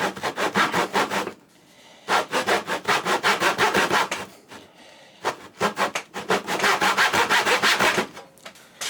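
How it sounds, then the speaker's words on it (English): A hand saw cross-cuts wood, nibbling a kerf between two knife lines, in three long runs of quick, even back-and-forth strokes separated by short pauses; close and fairly loud, with no talk. "nibbling until we get a saw kerf all the way along between those 2 knife lines"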